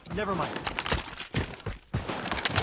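Rapid gunfire bursts from a Call of Duty Mobile match, sharp repeated shots and thuds in quick clusters, loud and close, with voices talking over parts of it.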